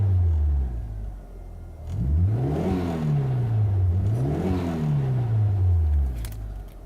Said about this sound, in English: So the engine is pretty much warmed up. It should be running much smoother now.